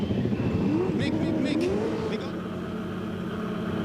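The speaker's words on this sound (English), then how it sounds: "So here comes Marcus for his fuel stop." A V8 Supercar at the 2005 Adelaide 500 comes into the pits for a fuel stop, its engine a loud, steady drone that rises briefly in pitch and then eases back, under constant crowd and track noise.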